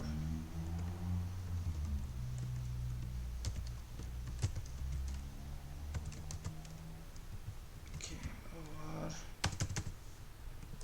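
Computer keyboard keys clatter in scattered clusters of clicks while someone writes a simple Python program, moderately close, over a steady low background hum without talk.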